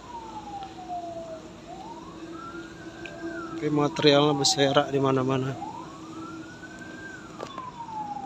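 An emergency vehicle siren wails in slow rising and falling sweeps from a nearby highway at night, moderately distant, while someone talks over part of it.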